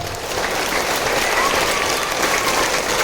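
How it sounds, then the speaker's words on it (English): Steady applause from a class of schoolchildren, dense and continuous clapping filling the room at an even level throughout, with no talk over it. "let's give them a big clap."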